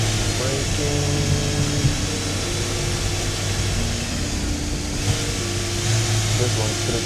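VW Golf Mk2 engine under full throttle while driving, a loud continuous drone with shifting engine tones heard from inside the car, with talking over it.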